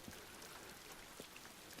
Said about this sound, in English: as the rain, it kind of started out gradually slow and then it's increased and the thunder's kicking in.